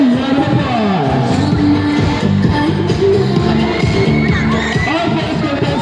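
Audience at a high school Pi Day event cheers and shouts as grade 9 girls come down the runway, a loud, continuous crowd roar with whoops and children's voices mixed with music-like tones.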